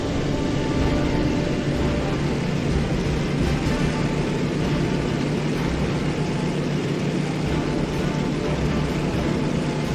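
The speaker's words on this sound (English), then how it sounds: "Fly close to it to perform a recon pass, Reaper Leader. Overflying now, Control." A steady, loud engine drone from an aircraft making a low recon pass over Pearl Harbour in Damage Inc, a constant roar with no break and no voices.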